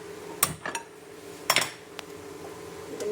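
Metal pan being picked up and set down on a stove for roasting masala, sharp clanks and clatters in a few quick bursts with quiet gaps between, close and alone.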